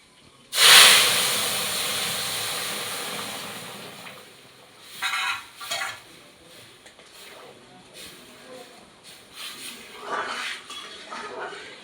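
Bitter gourd leaf dal comes to a boil in a pot, giving a sudden loud burst of hissing steam that settles into a steady simmering hiss, with brief clinks and rustles on top.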